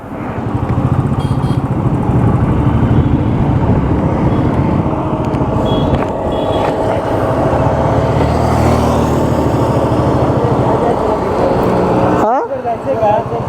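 A motorcycle engine drones continuously nearby amid road traffic, with a short clatter near the end.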